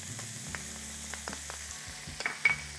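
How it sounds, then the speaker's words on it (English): Ground pork and beef mixed together sizzle quietly in a hot pan over medium-high heat, with a soft steady frying hiss and occasional light scraping taps of stirring. "you want to brown the meat a bit, so keep the heat on medium-high"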